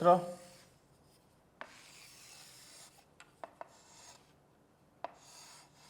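A pencil held in a compass sweeps across paper to draw a circle, giving soft scratchy rubbing strokes with a few small clicks between them, close and quiet.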